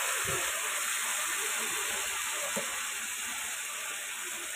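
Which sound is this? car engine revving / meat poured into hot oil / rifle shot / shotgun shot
meat poured into hot oil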